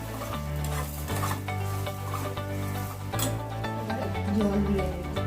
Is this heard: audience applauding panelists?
no